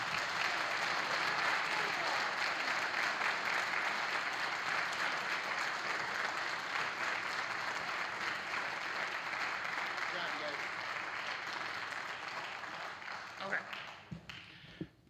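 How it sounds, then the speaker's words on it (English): Sustained applause from a sizable audience at a high school band concert, steady and loud for most of its length, then thinning out into scattered claps near the end. "Round of applause for these amazing seniors."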